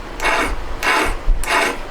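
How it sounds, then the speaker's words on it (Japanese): A hand file rasps over a handmade camshaft part for a 125cc twin-cam 16-valve four-cylinder engine in three close, steady strokes evenly spaced with brief pauses, no voices. "まず手やすりであらかた形を整えて、深いバリや傷は取って"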